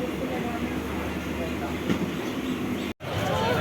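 A train rumbles past on the India–Bangladesh border route, a steady broadband roll with faint rail clatter and a voice talking underneath, broken by a brief cut near the end.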